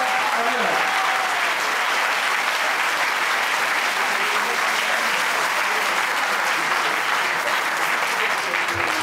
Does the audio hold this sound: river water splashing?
no